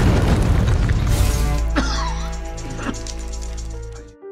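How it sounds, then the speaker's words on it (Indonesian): A heavy boom from a car bomb and a blasted gold safe inside a prison, with a sharp burst followed by a long, rumbling, ringing decay and a few faint pops. "Mereka berusaha membongkar berangkas emas itu dan meledakkannya bersamaan dengan bom mobil di penjara mereka"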